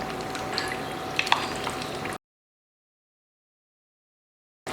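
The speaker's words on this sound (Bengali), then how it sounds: "এবারে আমি ফ্রেঞ্চ ফ্রাইগুলো তেলের মধ্যে দিয়ে দিচ্ছি" Semolina french fries deep frying in hot oil over medium heat, a dense even bubbling crackle up close for about two seconds, then silence before the frying briefly resumes.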